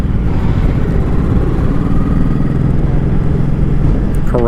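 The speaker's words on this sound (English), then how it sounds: "Another motorcycle." A motorcycle passes on a road in Nebraska, its engine a steady low drone that holds close and loud for several seconds before easing off at the end, with no talk over it.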